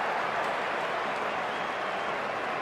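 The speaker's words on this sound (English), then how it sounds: "Have to listen to the noise of that crowd. It's just sensational." A cricket stadium crowd at an India versus Australia match roars and applauds as a dense, steady wash of cheering with no breaks.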